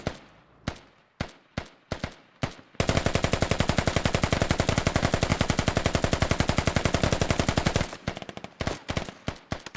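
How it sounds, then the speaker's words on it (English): Long sustained bursts of SAW light machine gun fire in the military shooter Squad, loud and rapid, preceded and followed by scattered single gunshots, with no talking. "But that saw is doing a great job of pinning this entire fire team."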